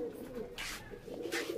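Pigeons coo inside a loft cage, soft repeated throaty calls rising twice over a steady low background murmur, close by and moderately loud.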